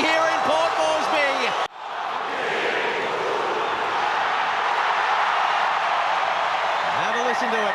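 Rugby crowd in Port Moresby roaring wildly after full time of an emotional Tonga versus Samoa match, a dense sustained wash of cheering that swells after an abrupt cut, with voices heard talking at the start and end.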